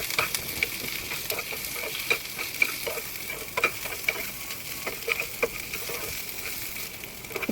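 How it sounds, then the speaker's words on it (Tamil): Ginger, garlic and cashews fry in a pan, giving a quiet, continuous sizzle broken by irregular scraping clicks from stirring. "இப்போ இஞ்சி, பூண்டு இதெல்லாம் சேர்த்து நல்லா வறுத்து எடுத்துக்கலாம் கொஞ்சம் நேரம்."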